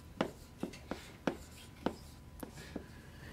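Writing on a board during a calculus lecture, about eight sharp, separate taps and strokes at an uneven pace, fairly quiet against a low room hum.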